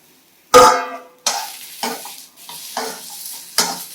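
Okra is stirred in a dry pan with no oil, producing a sudden loud sizzle followed by four more sharp bursts of scraping and hissing at roughly even intervals.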